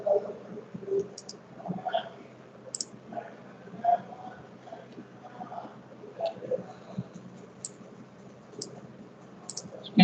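Computer mouse buttons click sharply and quietly while working in CAD software, with irregular single and double clicks spread across a quiet background.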